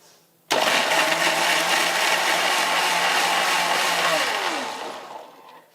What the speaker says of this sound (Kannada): ಈಗ ಮುಚ್ಚಳ ಮುಚ್ಚಿ ನುಣ್ಣಗೆ ರುಬ್ಕೊಂಬರ್ತೀನಿ ನೋಡ್ರಿ.